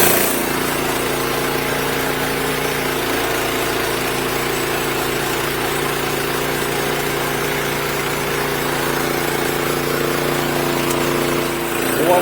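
A sawmill cuts a timber beam through knots, giving a loud, steady engine and blade drone with a constant low hum that keeps going the whole time, slightly easing near the end.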